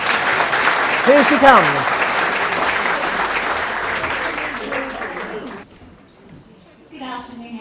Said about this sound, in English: Ladies and gentlemen, let's hear a big round of applause